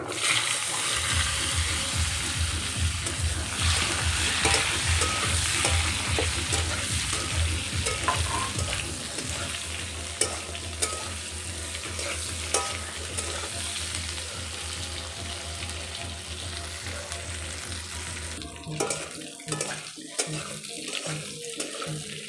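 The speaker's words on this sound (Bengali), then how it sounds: "পেঁপে আলুগুলোকে হালকা ভেজে নিয়েছি।" Papaya and potato pieces frying in oil in a pan, with a loud, dense sizzle and stirring that continue for most of the stretch. Near the end the sizzle eases into scattered scrapes and clinks.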